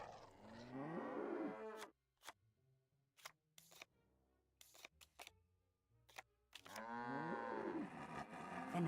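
Cows mooing in the Nancy Drew game The Captive Curse: a long, loud low moo, then a series of sharp clicks and thumps, then another drawn-out moo at the end.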